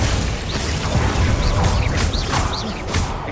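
A Glacius ice spell is cast in Hogwarts Legacy combat, dense crackling and crashing with short whooshing chirps over a loud rumbling bed, close and continuous.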